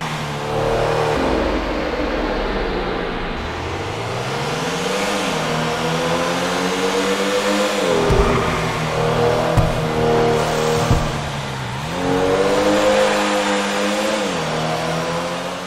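A Pfister Comet S2 sports car in GTA Online revs hard and loud, with its engine pitch climbing through several gears. Brief dips between the rises mark shifts and lifts off the throttle.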